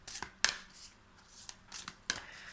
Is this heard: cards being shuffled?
yes